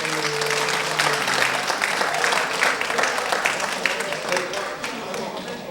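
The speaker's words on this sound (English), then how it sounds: "Give yourselves a round of applause" A live blues show audience, The Hard Luck Blues Show, gives a dense, steady round of applause lasting the whole stretch, with voices and a brief tone mixed in near the start.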